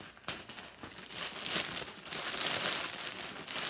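A shipping package delivered by UPS and holding yarn is cut and torn open nearby, making continuous crinkling and rustling of plastic or paper wrapping with a few sharper tearing bursts, and nobody speaks.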